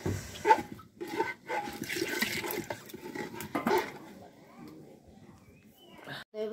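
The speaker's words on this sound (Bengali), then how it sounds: "পানি দিয়ে দিতেছি কষানো হয়েছে" Water pours into a pot of simmering khichuri in a home kitchen, a splashing gush up front that tapers off after a few seconds, with background voices and clatter.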